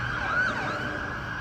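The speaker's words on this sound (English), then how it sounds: "We got a siren going by." An emergency siren wails in the distance, its rising and falling tone moderately faint over a low background rumble.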